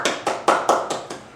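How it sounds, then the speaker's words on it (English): A barbershop audience claps in time, six sharp, evenly spaced claps spread across a little over a second, each one close and fairly loud, with no talking. "Clap your hands"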